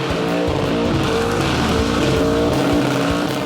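A muscle car does a smoky burnout for a crowd, its engine revving hard in repeated surges as the tires squeal continuously, loud and close.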